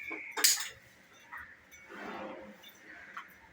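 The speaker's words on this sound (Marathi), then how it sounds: "प्रथम आपण कढई गरम करत ठेवू" A metal kadai set down on a stovetop gives one sharp clank, followed by quieter kitchen clatter and faint background noise.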